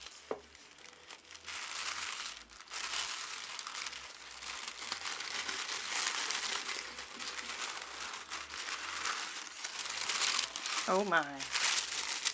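Crinkly paper packing filler rustles and crunches steadily while a tarot deck is unboxed, loud and close throughout, with a short spoken exclamation partway through.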